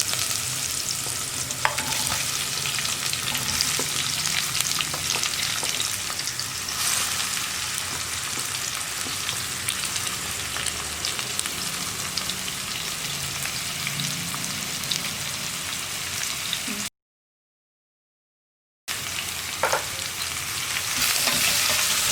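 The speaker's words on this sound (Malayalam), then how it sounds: "സവോള ചേർത്ത് നന്നായിട്ട് ഇളക്കി കൊടുക്കുക." Chopped onion fries and sizzles in a pan for a soya roast, with a steady, dense crackle and scraping stir strokes throughout, briefly cutting out near the end before resuming.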